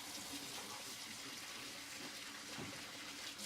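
Water fills a film developing tank in a continuous, close, hissing gush from a tap, with a steady full rush and no pauses or voices.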